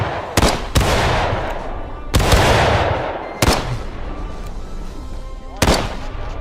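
Civil War rifle volleys in the first-person shooter War of Rights: five sharp, loud gunshots at irregular intervals, each trailing off into a rolling echo, with battlefield ambience and faint shouting between them.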